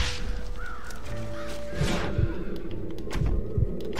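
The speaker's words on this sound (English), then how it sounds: "Scare the crows out of the silo." Crows caw around a farm silo in Red Dead Redemption, a few harsh calls over a busy outdoor background with dull thumps, no talk.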